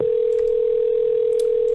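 A steady telephone dial tone hums alone, loud and unbroken, with a faint tap or two in the background just before a prank call is placed.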